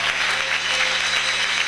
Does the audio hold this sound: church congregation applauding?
yes